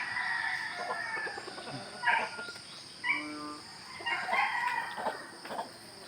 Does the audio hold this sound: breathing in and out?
no